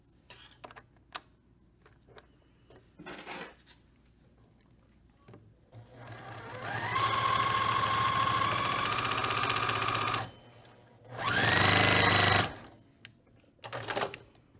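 A sewing machine stitches quilt pieces directly on the line in two bursts, a long steady run and a shorter one. Scattered clicks and fabric handling come between them, and there is no talk.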